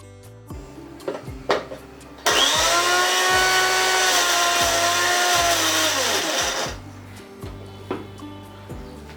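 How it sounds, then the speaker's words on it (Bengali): An electric blender purees chopped spinach into a paste, a loud, steady whirring drone lasting about four seconds, framed by clattering kitchen sounds before and after. "এবার ব্লেন্ডারে পেস্ট করে নেব"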